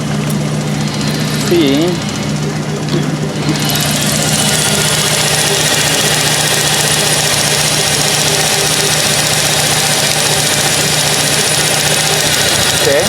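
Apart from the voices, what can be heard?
Chevy Sonoma 2.2 engine idling with injector 1 unplugged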